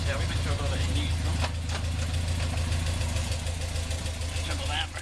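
A Westfield kit car engine idles steadily in neutral with the handbrake on, a loud continuous low rumble up close, with people talking over it.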